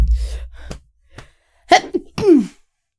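A single sneeze bursts out up close during a casual podcast recording, preceded by brief breathy sounds and a short vocal noise.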